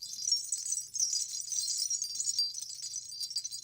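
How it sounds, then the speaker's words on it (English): Ankle bells from a sample library jingle in a soft, continuous shimmer of small metallic rings, fairly faint and close, with no voices. "Also, these ankle bells are so cool."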